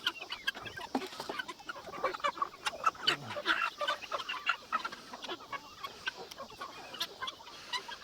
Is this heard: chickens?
yes